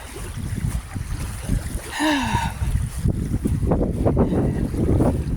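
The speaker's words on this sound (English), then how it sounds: "Just nice listening to the water." Water lapping along an ocean shore outdoors, heard as a steady low wash mixed with wind noise buffeting the microphone, with a brief bird-like chirp partway through.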